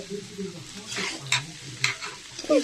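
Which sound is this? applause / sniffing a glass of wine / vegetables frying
vegetables frying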